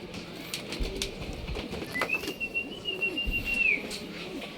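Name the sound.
racing pigeons arriving and flapping on the roof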